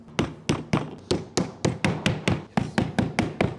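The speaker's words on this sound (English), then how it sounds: "With this in place, we're going to gently tap it into place." A wooden faceplate is tapped gently onto an overhead camper van cabinet in a steady row of about thirteen evenly spaced knocks, each sharp and close with a short woody ring.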